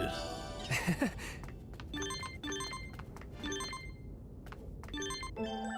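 A repeated electronic phone ring in the Digimon Story Time Stranger video game, short tonal bursts sounding again and again over a quiet game soundtrack.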